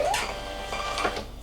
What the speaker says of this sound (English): I'm just gonna come here and I'm gonna click print